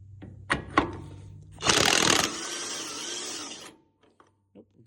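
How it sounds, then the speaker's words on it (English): An impact wrench hammers on a lower control arm nut of a 2004-08 Ford F150 in one loud, rattling burst of about two seconds, with lighter clicks and clanks of tools before and after. "may be able to take the nut off with an impact and not have to hold the head side"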